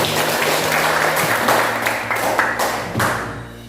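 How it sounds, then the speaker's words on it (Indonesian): Students applaud a classmate's answer in a classroom, a short burst of scattered hand claps with a few thumps, fairly close and fading toward the end. "Kita aplaus dulu untuk temannya"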